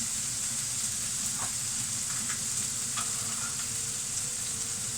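A pan sizzles steadily on a home stove while beans and beef are being cooked, giving a continuous close frying hiss with small crackles and no talking.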